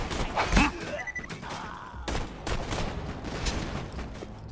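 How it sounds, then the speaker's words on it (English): A cannon weapon fires in Borderlands 2: a rapid barrage of booming, thudding shots and impacts, close and dense, rolling on for several seconds. "I'm just using my private cannon."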